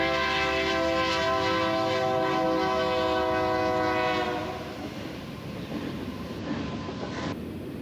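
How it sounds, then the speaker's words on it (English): A loud, sustained horn blares over the heavy rumble of a passing freight train on a Canadian Pacific line in North Dakota, then cuts off while the rolling rail noise continues. "here comes a train"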